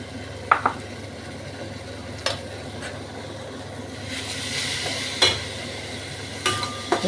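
Raw mango pieces being stirred with ground coriander, cumin and dried chilli powder in a pan, with a steady low sizzle and a few sharp clinks and scrapes of a spoon against the pan, close by and fairly quiet.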